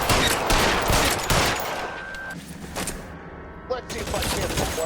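Rapid gunfire exchange in the 1940s Los Angeles detective game L.A. Noire, loud and dense with sharp bursts over a busy game soundtrack, easing briefly before more shots close out the scene.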